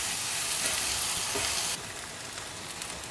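Bitter gourd sautéing in a pan gives a steady, dense sizzle close by, loud at first and then dropping to a softer frying hiss.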